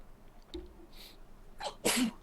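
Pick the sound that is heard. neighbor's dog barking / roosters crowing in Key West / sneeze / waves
sneeze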